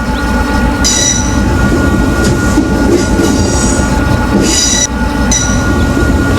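A Z50000 electric train on a Dijon to Nancy service crosses points to change tracks, with a loud constant rumble from the cab, rhythmic wheel clatter and repeated high metallic squeals coming and going.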